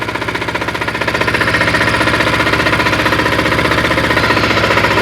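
Weima diesel walk-behind tractor engine idling close by, a loud, rapid, evenly pulsing single-cylinder knock that stays steady throughout with no voices.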